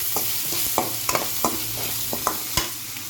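Onions with ginger garlic paste frying in a pan, a steady sizzle under quick, irregular clicks and scrapes of a spoon stirring, close up with no voices.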